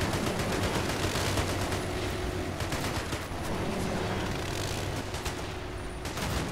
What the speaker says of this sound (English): Look at this guy shooting at the tank.